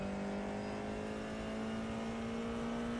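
Formula 4 race car engine holding a steady high, buzzing rev with a clear sustained tone, loud and close, running alone for about three seconds without any voices.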